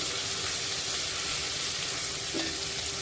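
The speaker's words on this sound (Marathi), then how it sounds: "आलं लसूण मिरची तेलामध्ये परतून घ्यायची आहे" Ginger, garlic and green chili fry in hot oil for a pomfret curry. A steady, close sizzle runs unbroken throughout with no voices.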